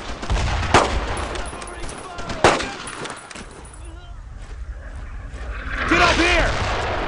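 Rifle and machine-gun fire in the World War II shooter Brothers in Arms: Road to Hill 30, loud close shots with sharp cracks near the start, then distant rattling bursts, with shouted voices in between.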